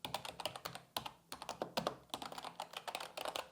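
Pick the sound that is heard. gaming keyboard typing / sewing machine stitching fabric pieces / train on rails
gaming keyboard typing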